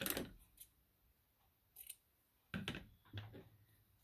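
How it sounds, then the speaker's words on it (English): Scissors snip green ribbon in a few quiet, separate cuts with pauses between, close by in a quiet room. "I'm just going to cut off a little bit longer than what I need"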